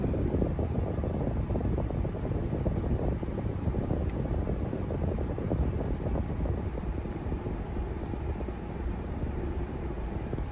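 A rear air-conditioner auxiliary fan in a Suzuki Carry hums as a steady, broad low rumble with airy hiss, constant and unbroken, close inside the vehicle with no talking.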